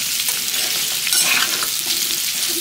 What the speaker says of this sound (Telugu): సో ఇవి ఇప్పుడు 2 దఫాలుగా మనం వేయించుకుందాము.